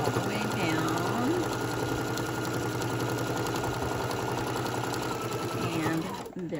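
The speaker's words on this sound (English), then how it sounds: "I'm gonna go ahead, sewing all the way down" Steady, loud whirring hum of a sewing machine running continuously while stitching a beginner zipper pouch, close up and unbroken until it stops right at the end.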